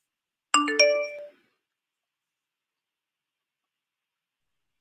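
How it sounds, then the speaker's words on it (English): A Messenger notification chime sounds from a laptop: a short two-note electronic tone burst near the start, then silence, with a faint brief blip at the very end. "I installed Messenger on my laptop, so it's making noises."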